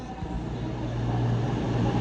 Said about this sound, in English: The train now approaching is a cross country service to